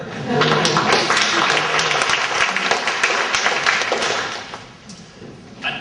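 An audience at a local candidate forum breaks into sustained applause, many hands clapping at once, gradually thinning toward the end.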